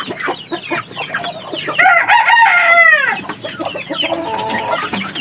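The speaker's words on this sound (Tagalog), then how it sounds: "Nakikita niyo po, dumami na po yung mga manok dito sa loob ng kulungan ko." Chickens and chicks fill a farm coop with close, lively clucking and peeping, with a rooster's drawn-out crow rising in the middle and softer chatter continuing around it.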